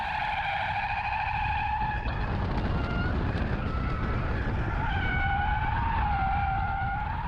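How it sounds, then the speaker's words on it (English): Tires on a Kia EV6 GT squeal continuously as the electric car drifts, tonal wavering screeches over a rough rumbling roar, loud and unbroken for the full stretch. "Watch how happy the GT is to destroy tires in short order."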